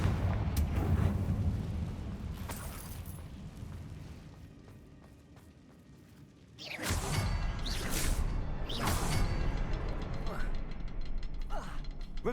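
A Confringo blasting spell bursts in Hogwarts Legacy, a loud booming eruption with crackling debris after a quieter stretch, set among ongoing game ambience and mechanical noises.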